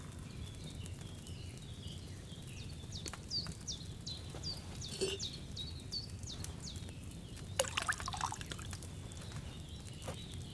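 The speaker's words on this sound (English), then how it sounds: "So, what did you pour in there? Wine, of course." Wine poured into a cauldron in Kingdom Come: Deliverance 2 makes a soft liquid splash and trickle partway through, set against a steady outdoor ambience of chirping birds.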